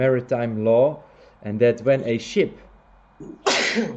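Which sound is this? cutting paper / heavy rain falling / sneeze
sneeze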